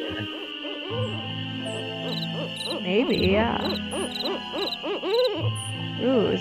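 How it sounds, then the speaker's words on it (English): Owl hooting in the Nancy Drew: Ghost Dogs of Moon Lake video game, a repeated series of mechanical-sounding hoots over steady game music, fairly loud and close, with a brief spoken reply in the middle. "Sounds like a mechanical owl."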